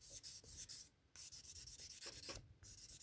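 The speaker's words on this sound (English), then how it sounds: "just wet sanding it using the other side" A sanding stick wet sanding a small die-cast Corgi Whizzwheels Lotus Europa model car, heard as close, quiet back-and-forth rubbing strokes in a quick steady rhythm, with two brief pauses and no talking.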